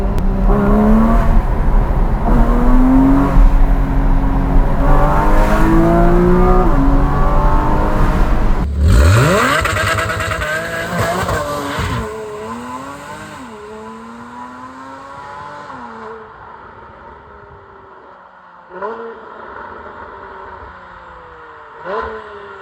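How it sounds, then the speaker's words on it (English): A Porsche 981 Cayman S fitted with Fabspeed F1 headers revs loudly and close, its engine note climbing and falling in repeated sweeps, then settling into quieter, separate blips as the revs drop away. "Bro, I could drive around the 3 to 5k rev range all day long."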